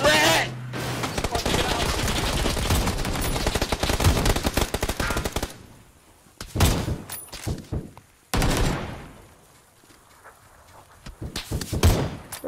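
Rapid automatic gunfire rattles loudly in a Fortnite match, a long dense burst followed by several shorter volleys and single cracks after brief pauses.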